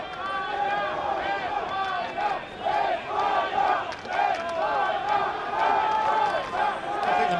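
A rugby stadium crowd at a 1999 World Cup match between Spain and Uruguay roars and chants in rising waves, dense and sustained, with voices shouting throughout.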